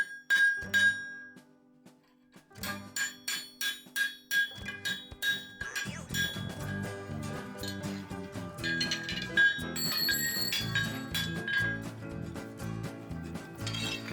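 Hot steel bottle opener blank hammered on an anvil, a few ringing metallic strikes, a pause, then a fast run of sharp clanging blows that gives way to denser, continuous ringing hammer work close by.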